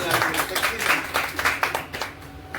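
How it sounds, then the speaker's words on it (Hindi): An audience claps together at a meeting, a brisk burst of many hands close by, with voices talking over the applause. "ताली होनी चाहिए।"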